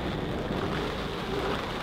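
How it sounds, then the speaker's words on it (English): Steady rain pours down with a constant hiss during a storm in Mallorca, a low rumble beneath it like wind and storm noise, unbroken for the whole moment. "it's storming like crazy and it's raining"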